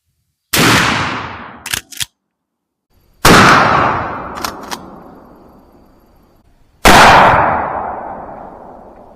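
Three loud, close shotgun blasts fire Federal Truball 20 gauge rifled slugs in 3-inch magnum shells, each a sharp boom with a long echoing decay. Between shots come action clacks.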